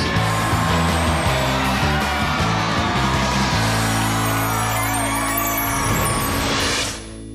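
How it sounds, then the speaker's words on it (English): A bus pulls away at a home makeover reveal, its heavy diesel engine rumbling loud and steady under crowd noise for about seven seconds before cutting off sharply. "Bus driver, move that bus!"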